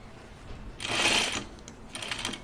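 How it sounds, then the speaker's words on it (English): A sewing machine stitches down small tucks in a top, a short burst of fast mechanical whirring that rises, stops, then resumes more quietly near the end. "I am stitching down all these little tucks"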